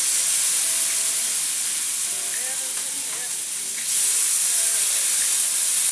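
Lemon juice hisses and sizzles in a hot pan of shrimp, a loud steady steamy hiss that swells again near the end, with faint clinks and brief voice sounds underneath.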